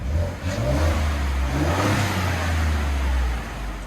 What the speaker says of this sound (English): 2022 Ford F-150 Ecoboost. This is what it sounds like before.